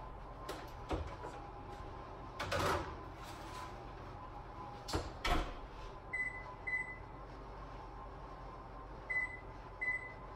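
Oven door handled as frozen spaghetti goes into a preheating home oven: a few thuds and clunks of the door and tray, then short electronic beeps as the timer is set, quiet room between.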